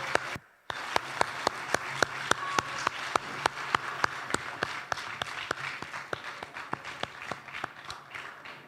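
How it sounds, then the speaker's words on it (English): A lecture audience at a memorial lecture gives a sustained round of applause, with a steady wash of many hands and distinct sharp claps repeating at an even beat, moderately loud throughout. "Let's give Mr. Broomes another round of applause"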